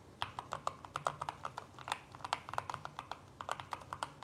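Rapid typing on a Keychron mechanical keyboard, a steady run of crisp, clicky keystrokes with uneven rhythm, close and fairly quiet, with no talking.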